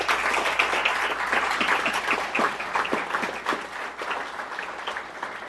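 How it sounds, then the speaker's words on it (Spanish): A church congregation applauding during a sermon, a steady wash of many hands clapping at moderate volume that gradually thins out, with no one speaking over it. "Por eso merece un aplauso al Señor."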